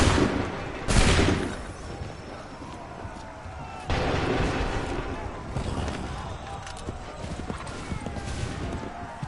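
Musket volleys crack out in Assassin's Creed III, a loud burst near one second and another around four seconds, each trailing off into rumbling battlefield noise with hoofbeats and commotion beneath.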